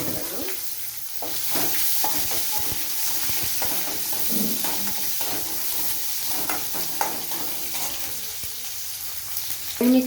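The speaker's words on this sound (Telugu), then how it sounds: "తాలింపు కూడా పోపు పెట్టేస్తున్నా ఫ్రెండ్స్. చూడండి, తిరగబాత గింజలు వేసేసినాను, కరివేపాకు వేసినాను, ఆనియన్స్ వేస్తున్నాను." Curry leaves and onions sizzling in hot oil for a South Indian tempering, a steady close frying hiss with occasional stirring scrapes throughout, no talk.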